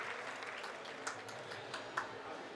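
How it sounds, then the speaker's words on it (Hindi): An audience applauds to welcome a guest at a Holi Milan gathering, producing a steady, fairly faint wash of clapping with a couple of sharper claps standing out. "आप सभी एक बार जोरदार तालियों से स्वागत करें"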